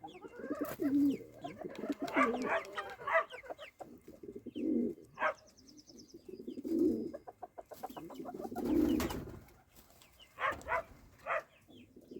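Pigeons coo repeatedly inside a pigeon loft, their throaty calls coming in close, uneven bursts with brief pauses between them.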